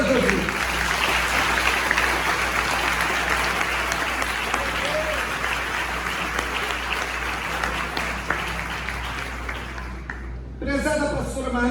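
A church congregation at a prophetic seminar consecration applauds in worship, sustained loud clapping with crowd noise filling the space, then breaking off near the end as a voice begins to speak.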